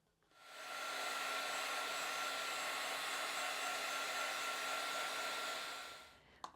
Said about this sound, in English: Then I am going to heat set this ever so gently.